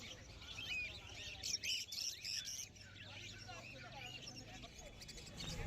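Budgerigars in many colours at the Galiff Street bird market in Kolkata chirp and twitter in bright, rapid bursts, with busy market murmur and low rumble underneath.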